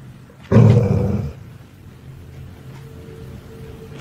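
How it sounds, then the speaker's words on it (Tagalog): A dog gives a loud, low growl while staring down a hallway indoors, a rough burst of about three-quarters of a second followed by quiet room tone. "Makikita mong nakatingin ang aso sa hallway at nang mag-growl ito"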